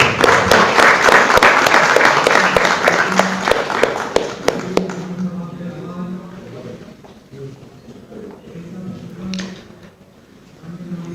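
Audience applause at a felicitation ceremony, a loud dense burst of clapping for about five seconds that fades into quieter room noise and murmuring voices.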